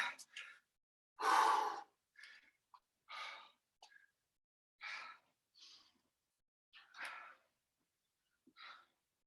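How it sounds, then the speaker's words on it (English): Heavy breathing after a set of burpees in a follow-along workout class: about a dozen deep, close breaths and sighing exhales, one large gasp early on, separated by short quiet gaps. "Couple deep breaths to start recovering."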